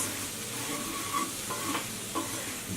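Eggs with black pepper and turmeric powder sizzle while being stirred in a pan, a steady close frying hiss with a few faint scraping touches.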